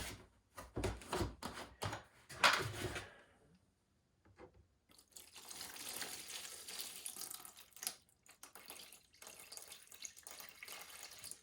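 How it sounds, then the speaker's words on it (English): Degreaser liquid for stripping anodizing from aluminum mountain bike parts is poured into a bucket, a close splashing, trickling pour in bursts with a short pause midway and no talking. "you're putting it in degreaser, and then just find a bucket to put it in"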